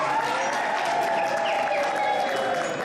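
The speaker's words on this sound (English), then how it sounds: "may you give them another round of applause?" An audience gives another round of applause for a school percussion band, a dense continuous clatter of clapping with faint crowd murmur beneath it.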